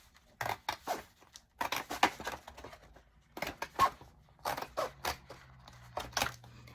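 Scissors cut through a cardboard tissue box panel in a series of crisp, close snips grouped in short bursts, with a faint low hum under the later cuts.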